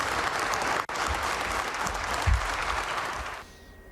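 Applause rings from office windows of Palazzo Chigi as Giuseppe Conte departs, a steady crowd of clapping from staff with a brief cut before fading out near the end.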